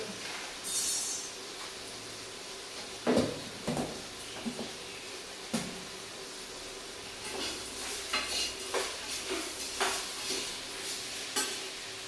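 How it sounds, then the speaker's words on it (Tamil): Tomatoes sautéing in a pan for vegetable biryani, with a soft sizzle under repeated scraping stirs and light clinks of a spoon against the pan, quiet and close, with no talking. "தக்காளி நல்லா வதங்கிடுச்சு"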